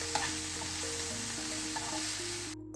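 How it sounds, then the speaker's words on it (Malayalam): Curry leaves dropped into hot oil in a pan while cooking a whole chicken in a pressure cooker, sizzling and crackling continuously as a spoon stirs them, with a faint low hum behind. "ഇതിലേക്ക് ശകലം കറിവേപ്പിലയും കൂടെ നമുക്ക് ഇട്ട് കൊടുക്കാം. നമുക്കിതൊന്ന് ഇളക്കാം."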